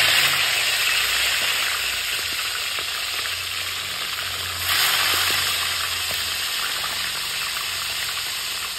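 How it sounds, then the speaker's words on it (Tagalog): Tilapia frying in hot oil, a steady loud sizzle with crackling pops, swelling briefly partway through, close up with no voices. "Prito na natin ang tilapia."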